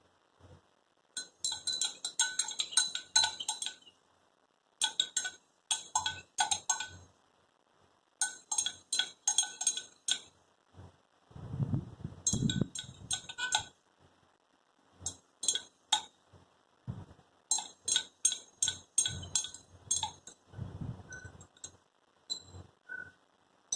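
A glass rod clinks rapidly against a glass beaker while concentrated hydrochloric acid is stirred drop by drop into a phenol-formaldehyde mixture, in bursts of bright, close tinkling separated by short pauses, with no talking.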